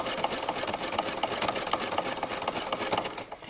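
A sewing machine stitching slowly over a seam and elastic edge on a sports bra, a steady close-up chugging hum with rhythmic needle pulses and no voices.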